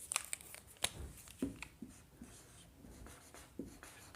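Pen or marker scratches and taps faintly during a biology lecture on restriction enzymes, in short irregular strokes with soft paper rustle and no talking.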